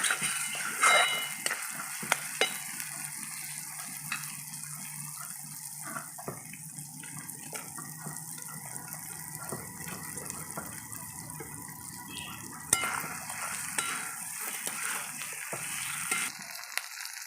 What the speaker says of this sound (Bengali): এবার এর মধ্যে আমি ভেজে রাখা পুঁটি মাছগুলো দিয়ে দেবো।